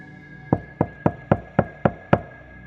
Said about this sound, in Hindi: कुछ सेकंड बाद फिर वही 3 दस्तक।